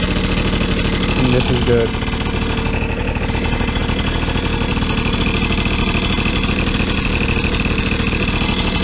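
A cheap moped engine idles low and steady, a continuous close putter that sits just above stalling, while someone speaks briefly over it.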